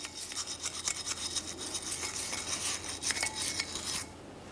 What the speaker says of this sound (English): Go ahead and clean that down. You can use a wire brush.